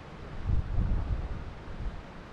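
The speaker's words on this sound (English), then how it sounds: "Wind's gusting from my back to the target again." Gusty wind buffeting the microphone outdoors at a rifle shooting range, a low rumbling roar that swells and eases in uneven bursts with no talking.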